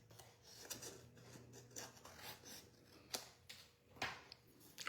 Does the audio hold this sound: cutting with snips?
yes